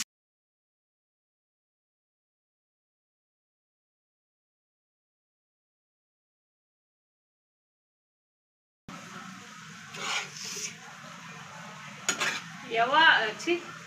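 Shrimp frying in oil on an iron dosa tawa, silent at first, then a soft steady sizzle with scraping and clinking of a metal utensil against the pan.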